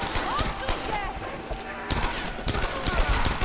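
Rapid gunfire in the Tomb Raider video game, loud, quick bursts of shots in a steady rhythm with a clear break midway, while a voice talks over the action.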